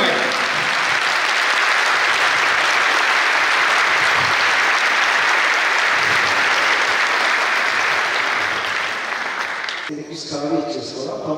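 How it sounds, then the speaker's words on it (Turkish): An audience in Adana gives a guest speaker a long, loud burst of applause, sustained and dense before fading into someone talking. "Adanalı'nın misafirperverliğini konuğumuza şöyle alkışlarımızla bir hissettirelim."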